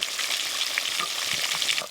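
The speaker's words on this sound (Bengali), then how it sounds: "উল্টে পাল্টে মাছগুলো বেশ ভালো করে ভেজে নিয়েছি, এবার তুলে নেব।" Pieces of a large silver carp sizzle in hot oil, a steady, dense crackle heard up close with no voices.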